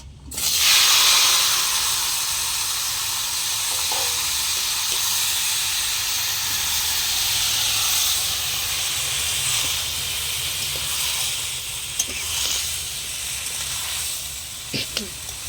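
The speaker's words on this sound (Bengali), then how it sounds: "এবার আমি টমেটোগুলো দিয়ে দেবো।" Tomatoes dropped into hot mustard oil in which mustard seeds were just fried, giving a loud steady hiss and sizzle that slowly fades over about fifteen seconds, with a few faint clinks near the end and no talk.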